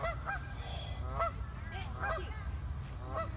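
Geese honking near the water at a campsite, several distinct honks spaced across the moment over a steady low background rumble, moderately close.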